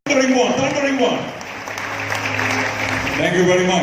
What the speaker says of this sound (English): We need to put our hands together and give Chandimal Jayasinghe and the organizing committee a big round of applause